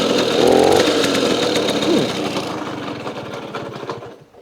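An old East German DDR moped engine runs steadily up close with a busy, buzzing two-stroke rattle and chain-selector clatter, revving briefly before settling and fading slightly toward the end.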